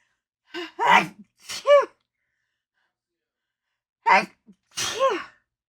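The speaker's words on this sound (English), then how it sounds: "I always sneeze in threes" Two sneezes, the first one a clustered burst, then a pause before a second sharp sneeze with a breathy intake, close and fairly loud.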